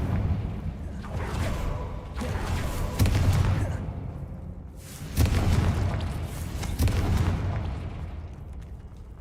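Repeated Confringo blasting spells in Hogwarts Legacy, several heavy booming explosions in a row with rumbling tails and whooshes, loud and close.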